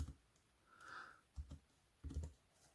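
Typing on a computer keyboard while entering data in Excel: a few soft clusters of key clicks with short pauses between, quiet and close, with no talk over them.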